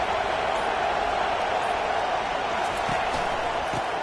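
Basketball arena crowd at an early stage of a college rivalry game, a continuous roar of cheering filling the space, with a few faint thumps beneath and a commentator's voice over it.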